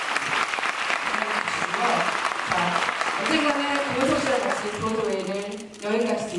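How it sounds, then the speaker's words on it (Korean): Concert audience applause rising at a musical theatre concert, dense continuous clapping from a large crowd with a host speaking over it throughout. "다시 한번 큰 박수"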